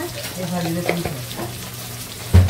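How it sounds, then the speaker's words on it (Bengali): Spices with salt and turmeric frying in a pan, giving a close, continuous sizzle with a few stirring clatters, partly under a voice. "ভালো করে মশলাটা কষিয়ে নেব"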